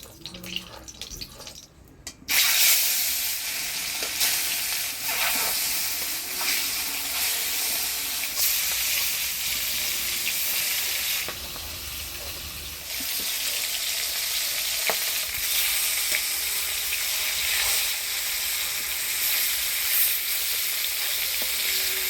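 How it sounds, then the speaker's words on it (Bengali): Rita fish fry in hot oil in a home Bengali kitchen, a loud, steady sizzle that keeps going close by, with faint clinks of stirring above it. "তুমি এবার মাছগুলো ভাজে নেবে"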